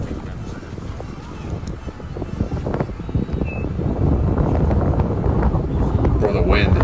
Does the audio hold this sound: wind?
yes